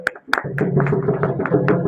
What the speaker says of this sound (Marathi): आपण सगळ्यांनी टाळ्या वाजवा